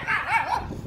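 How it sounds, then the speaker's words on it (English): A small dog gives a single short, whiny bark-yip, close and fairly loud, with a rising-and-falling tone and no talk over it. "And little Laddie goes for dogs."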